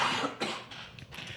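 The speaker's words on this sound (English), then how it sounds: "I got a cough." A person coughs a few times at close range, short harsh bursts with a throat-clearing quality, with brief pauses in between.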